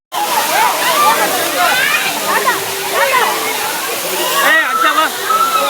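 Water pours and splashes at the Jalagamparai waterfall in a steady, loud rush close by, while crowd voices and chatter carry over the flow throughout.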